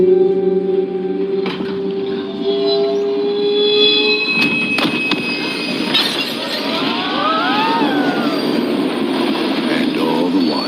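A train running on rails, with a steady rumble of wheels and car noise, some squealing tones and brief clanks, heard continuously and fairly loud throughout.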